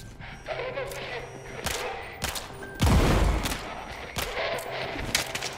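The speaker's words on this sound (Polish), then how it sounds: "Czy ktoś tam do mnie strzelał od nich?" Gunfire in the video game Kvark: a burst of sharp shots and thuds, with one heavy boom near the middle, over a busy game background of irregular cracks.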